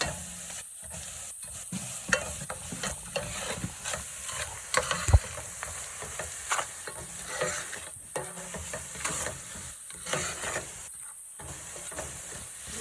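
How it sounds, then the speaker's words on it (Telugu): Chopped onions frying in oil with salt and chili powder, a steady close sizzle and hiss broken by several spoon-stirring scrapes and brief clatters. "ఆనియన్స్ ఇలా ఫ్రై అయిన తర్వాత ఒక స్పూన్ ఉప్పు, 2 స్పూన్స్ కారం వేసుకొని కొంచెం సేపు ఫ్రై చేయాలి"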